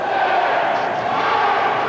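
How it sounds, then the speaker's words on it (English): A student section roars at a Minot State college basketball game against Dickinson State, a dense, loud and continuous wash of shouting and cheering voices that holds steady throughout. "A lot of noise here from the student section of the Minot State crowd."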